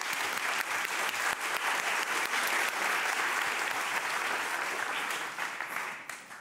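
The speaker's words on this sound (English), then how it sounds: "So Ruben, please take the stage and give him a big applause." Audience applause at a talk on existential risk from AI at Pakhuis de Zwijger, dense sustained clapping from a large crowd that holds steady and starts thinning in the final second.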